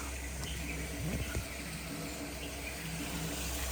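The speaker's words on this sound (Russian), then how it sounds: "Водопадик." A small waterfall at a temple in Ella, Sri Lanka, gives a steady, moderately loud rush of falling water with a brief faint tonal chirp over it.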